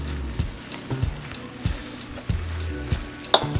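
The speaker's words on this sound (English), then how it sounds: "give your Brussels sprouts 10 to 12 minutes to fully saute" Brussels sprouts sautéing in a pan give off a low, steady sizzle and crackle, with a few soft stirring knocks and one sharp clink near the end; no one speaks.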